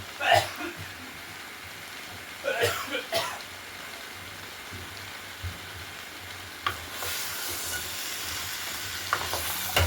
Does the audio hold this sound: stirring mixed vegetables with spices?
yes